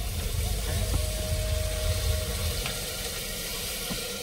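Water splashing into a large biryani pot of potatoes and mutton cooked at a truck, a steady loud rush with sizzling underneath throughout.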